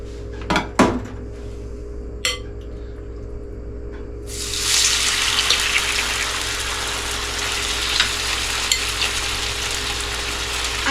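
Meat for Texas fajitas hitting a hot oiled pan, with clinks of cookware first, then a broad, steady sizzle that fills the rest of the clip close up.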